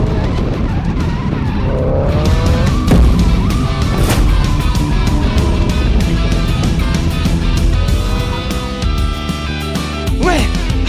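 A race car engine roars up close and steadily, with tire screeches and skidding layered over the drone as the car dives too early into the first corner of a village circuit.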